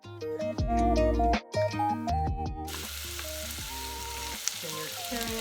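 Celery going into a pot for broccoli cheddar soup sets off a steady frying sizzle that takes over once a stretch of music ends.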